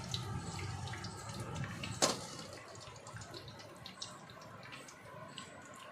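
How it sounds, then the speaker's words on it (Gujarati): Water trickles and drips steadily from wet cloth gathered at the corners while making mango shrikhand, a soft continuous splatter close by with one sharper splash partway through. "બધું પાણી નીચે ઉતરે છે"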